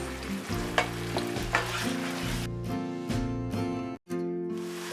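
Ground chilli, coriander, cumin and tandoori masala stirred and fried in a pan for chicken tikka masala, a loud close sizzle broken by repeated scraping strokes of a spoon in a steady rhythm.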